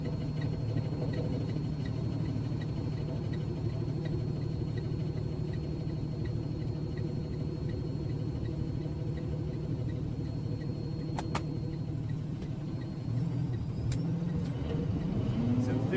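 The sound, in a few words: truck driving, shifting gears in 10-speed transmission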